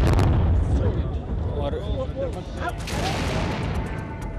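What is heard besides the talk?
gunshots during attack on Indian Parliament, news footage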